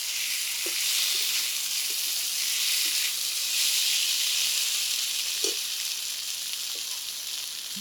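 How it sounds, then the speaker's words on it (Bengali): Maya fish tipped into a pan of fried onion, chilli and spice paste, setting off a loud, steady sizzle with a few soft stirring knocks, heard alone without voices. "মশলাটা ভাজি ভাজি হয়ে গেছে, এখন আমরা এর ভিতরে মায়া মাছগুলো ঢেলে দেবো।"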